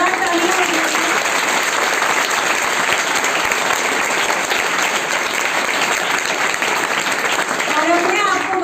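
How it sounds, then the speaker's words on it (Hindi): Loud, sustained audience applause fills a women's empowerment and voter awareness gathering, a dense wash of many hands clapping at once without letting up. "एक बार जोरदार तालियां बजाइए"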